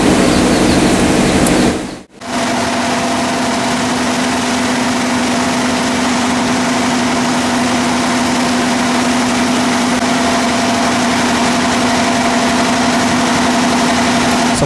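A rice milling machine's engine runs continuously, a loud, close, steady hum with a strong constant tone, briefly cutting out for a moment before resuming unchanged.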